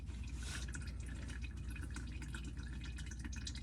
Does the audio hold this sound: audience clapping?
no